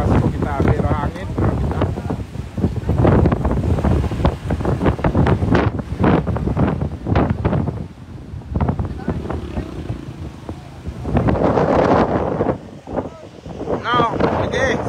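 Strong typhoon wind in Aklan buffets the microphone in loud, uneven gusts and roars, while people talk over it now and then.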